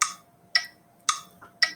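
A metronome clicks four times at an even, moderate tempo, each tick sharp and close, with quiet gaps between and a faint low hum underneath.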